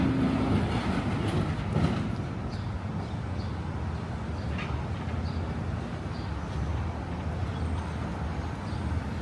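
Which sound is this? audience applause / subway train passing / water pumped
subway train passing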